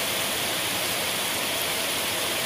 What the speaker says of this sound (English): very heavy rain today